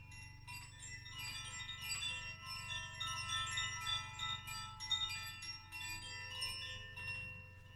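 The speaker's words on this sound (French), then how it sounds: "J'ai aussi des koshi." Koshi chimes, meditative wind-chime instruments used in sound healing, ring steadily with layered bright metallic tones that overlap and shimmer continuously, close and moderately loud with no talking.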